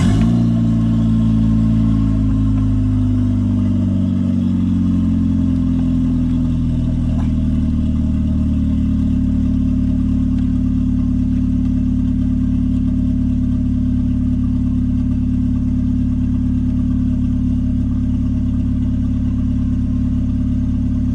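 A car engine cranks and catches, then settles into a loud, steady idle that drones on close by for about twenty seconds, with no one speaking.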